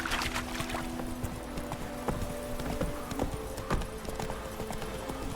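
Hooves clip-clop at a steady walking pace as a horse is ridden in The Witcher 3, each clop distinct and close over soft ambient game music.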